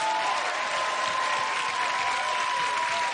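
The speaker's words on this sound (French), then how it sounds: "vous pouvez applaudir très fort" Studio audience on a French television entertainment show bursts into sustained, dense applause that holds at a steady, loud level for the full few seconds with no speech over it.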